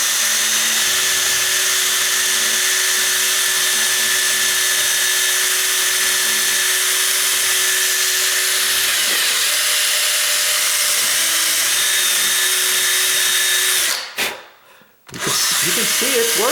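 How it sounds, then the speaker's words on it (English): A power drill fitted with a 1/8 inch bit grinds away wood inside a door latch opening, a continuous high whine with a brief pause near the end before it starts again. "I'm just putting in my 1/8 inch bit. I'm going to clean up the wood a little bit on the inside right in there."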